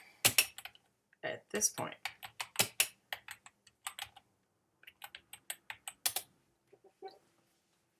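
Typing a search into Google Scholar on a keyboard: bursts of crisp, close key clicks in quick runs separated by short pauses, with a brief spoken phrase near the end.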